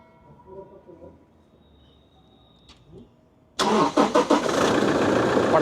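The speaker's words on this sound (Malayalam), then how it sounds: "എഞ്ചിൻ ഒന്ന് സ്റ്റാർട്ട് ചെയ്തേ" Quiet room tone with faint murmurs, then a 2017 Toyota Fortuner 4x4 automatic's diesel engine cranks and fires at once into a loud, rough, steady idle that runs to the end.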